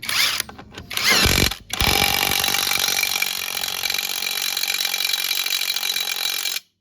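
A REAIM impact wrench tightening: a couple of short bursts, then a brief pause, followed by a sustained loud whirring hammer run that cuts off abruptly.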